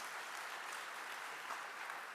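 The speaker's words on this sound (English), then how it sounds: "You should give yourselves a round of applause." Round of applause from a convocation audience in a large hall, a steady, fairly faint wash of many hands clapping with no voices over it.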